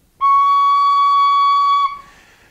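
Irish tin whistle sounding a single sustained C, all fingers off, held steady and clear for about a second and a half, then cut off with a short fading tail.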